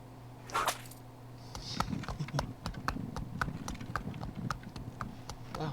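Steady video-game horse hoof clip-clops in a brisk rhythm, close by, over a low ambient hum with a brief whoosh near the start.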